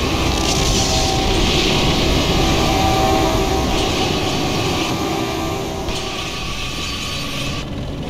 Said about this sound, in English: Oh, there's a fucking train.